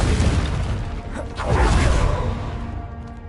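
Confringo spell blast in the video game Hogwarts Legacy, a deep booming burst with a whooshing rush that swells again midway and then decays into a fading rumble, loud and close.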